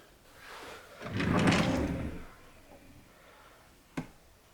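A household drawer slides open with a longer rumbling scrape, then after a pause a single sharp knock as it shuts, close by in a quiet room.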